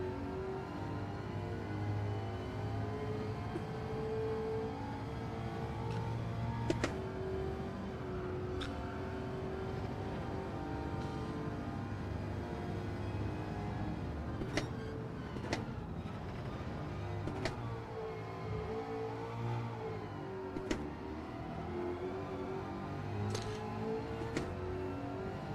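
A car engine in a driving video game, droning steadily with shifting pitch as it revs, under scattered sharp clicks and taps, heard alone at a modest level.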